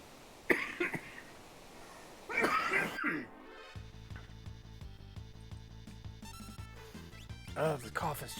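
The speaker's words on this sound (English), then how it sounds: "Oh, the cough is just awful." A person with asthma coughs in a few harsh, close bursts, then game music plays on with a soft electronic pulse.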